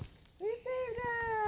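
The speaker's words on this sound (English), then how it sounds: "listen to him tweeping" A small rescued bird gives a few close, clear, upward-sliding chirps in quick succession against a quiet background.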